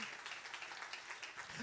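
Applause from a church congregation at a Sunday service, a steady wash of many hands clapping that holds at an even, moderate level for the whole short stretch, with no clear talk over it.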